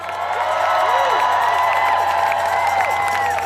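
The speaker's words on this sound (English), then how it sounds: "Let's keep the cheering going because we have people coming into the park in steady streams" A large outdoor crowd at a Brooklyn family-protection rally in a park keeps up continuous cheering, whooping and shouting, loud and sustained throughout with scattered clapping and voices blending into the roar.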